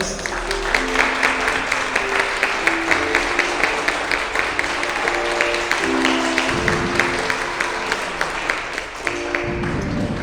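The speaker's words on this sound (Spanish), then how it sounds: "Vamos a darle un fuerte aplauso." A church congregation gives sustained applause at a Sunday service, with sharp claps over a tonal background that may be music or organ, all fairly close and loud.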